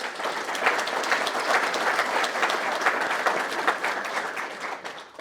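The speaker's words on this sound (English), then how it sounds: "So maybe a quick round of applause for that." Applause from a crowd at a law school awards ceremony, a dense and even sheet of clapping that holds steady before tapering slightly at the end.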